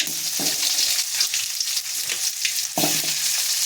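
Sliced onions and fennel seeds sizzle and crackle steadily in hot oil, with loud, bright frying noise throughout and a few low bumps as the pan is stirred or ingredients shift, no voices.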